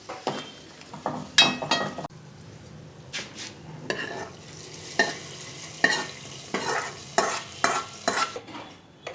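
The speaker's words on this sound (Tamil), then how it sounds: "நல்லா திராட்சை சேர்த்துங்க. நல்லா பொன்னிறமாக இது பண்ணிங்க." Raisins stirred and fried in a pan until golden while making vermicelli sago kheer, giving a soft steady sizzle broken by repeated scraping and clinking stirs against the pot, close and fairly quiet.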